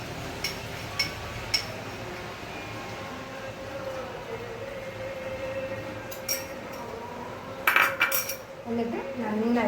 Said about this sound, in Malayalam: അത് ഇതിലോട്ട് ആഡ് ചെയ്യാൻ പോവുക.